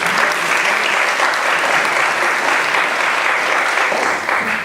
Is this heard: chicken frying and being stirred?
no